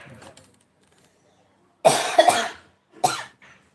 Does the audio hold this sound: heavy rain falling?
no